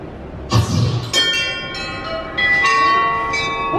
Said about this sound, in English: Now, let us try and ring that bell, but just once.